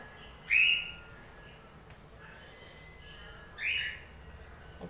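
Newly hatched country chick in a brooding setup under a 25-watt bulb, giving two short, high, clear peeps a few seconds apart over a faint background hiss.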